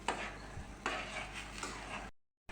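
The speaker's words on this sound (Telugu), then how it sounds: "వేసుకునేటప్పుడు ఇలా కలబెట్టిన తర్వాత మళ్ళీ కొంచెం సేపు కలబెట్టి" A spoon stirs an upma mixture in a pan, with a few scraping strokes and a soft sizzle close by before it cuts out.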